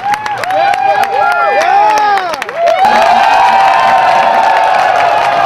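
A live crowd at an E3 Donkey Kong record attempt cheers and roars, a loud sustained wall of voices rising after bursts of the arcade game's swooping electronic tones.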